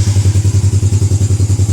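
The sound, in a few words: Yamaha Jupiter Z1 motorcycle engine started with electric starter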